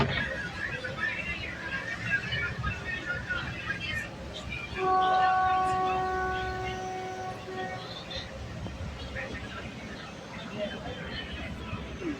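A passenger train pulls out of Bhachau station in Gujarat, its steady rumble and rattle joined midway by a long, loud horn blast, with faint voices of passengers in the background.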